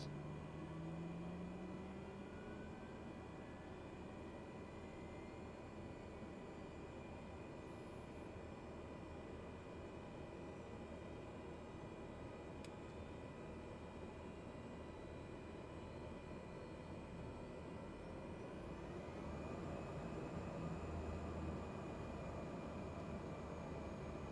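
Aircraft engine in Microsoft Flight Simulator, likely a Caravan or TBM, hums as a quiet, constant droning whine with steady tones, rising slightly in intensity near the end.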